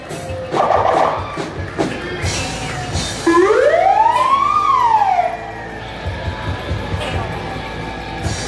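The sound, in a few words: volunteer fire rescue truck siren in a parade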